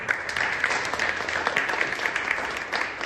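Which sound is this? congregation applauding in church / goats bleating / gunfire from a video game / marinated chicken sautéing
congregation applauding in church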